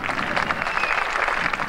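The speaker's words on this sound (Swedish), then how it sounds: "då ger vi de där tre en rungande applåd medan Lennart skakar buteljen" Brief, steady crowd applause and cheering rises for the three drivers on the podium at a 1991 Group A touring car race at Scandinavian Raceway Anderstorp.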